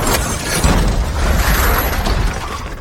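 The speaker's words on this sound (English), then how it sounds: "crashing into a car on the roadside." A car slamming into a parked car at the roadside, a loud dense crunching impact with shattering and breaking debris, brief and close, with no voices.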